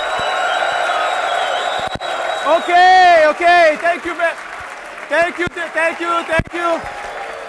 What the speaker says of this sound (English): Now, clap and yell as loud as you can